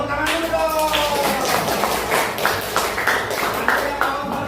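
Students clap in a classroom after a presentation on digestive system diseases, a brisk patter of hands lasting a few seconds, loosely rhythmic and uneven, with a voice speaking at the start.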